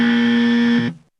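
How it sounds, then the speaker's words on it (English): Wrong-answer buzzer sound effect, a single loud sustained harsh electronic buzz lasting about a second before cutting off abruptly, with no talk over it. "It's going to be the wrong buzzer."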